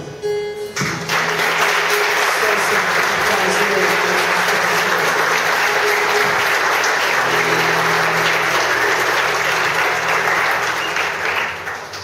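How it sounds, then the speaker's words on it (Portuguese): A church congregation claps together in sustained, even applause after a song of worship, a brief tone and murmur fading as the dense clapping continues for about eleven seconds. "Glorificamos com palmas."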